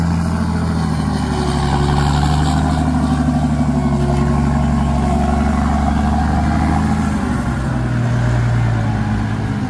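A Kubota M108S tractor pushing heavy clay soil rumbles loudly and continuously nearby, its diesel drone shifting slightly in pitch as it works.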